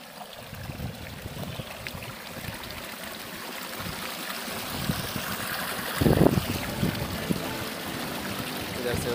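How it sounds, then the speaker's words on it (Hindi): Water spills over from a village water store and runs toward the fields, a steady outdoor rushing and trickling heard close up, with a brief louder splash partway through. "ये पानी इधर से आ रहा है, उधर से ओवरफ्लो होते हुए।"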